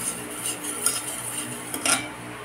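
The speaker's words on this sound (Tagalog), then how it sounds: "Stir." Utensil stirring a condensed milk dessert mixture in a bowl or pot, soft scraping and clinking at steady intervals with a couple of louder knocks near the end, close and fairly quiet, no talking.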